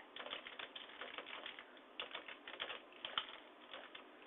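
Rapid clicking of keys on a computer keyboard, a steady stream of light taps with brief pauses, faint and close.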